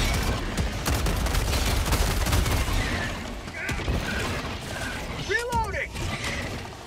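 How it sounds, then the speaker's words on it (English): Weapon reloading in a video game, mechanical clicks and ratcheting over a steady background of game noise and gunfire, with a few rising metallic tones near the end. "Reloading."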